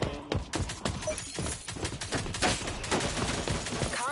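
Faint gunfire in the online shooter game Rogue Company crackles in rapid, uneven bursts, with dense repeated shots running continuously for about four seconds.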